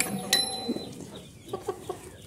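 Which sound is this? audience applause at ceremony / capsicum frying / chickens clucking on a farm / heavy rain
chickens clucking on a farm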